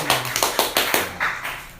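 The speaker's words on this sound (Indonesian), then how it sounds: "Tepuk tangan dulu dong" A small group claps in a short burst of about eight distinct, fairly close claps, ending in a slightly blurred final clap with no talking.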